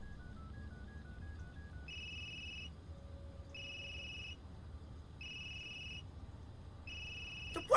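A phone rings after being called in the video game Unheard, giving repeated bursts of electronic ringtone at steady intervals over a faint background hum.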